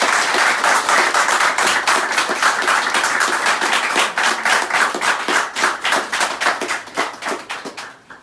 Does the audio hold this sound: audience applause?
yes